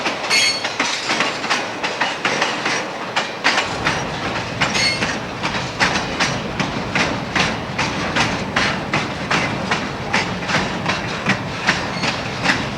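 A Norfolk Southern freight train with multiple locomotives rolls past steadily with rhythmic clickety-clack of wheels over rail joints and a heavy engine rumble that deepens after a few seconds.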